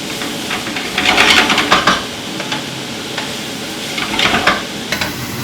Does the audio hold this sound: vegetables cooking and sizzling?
yes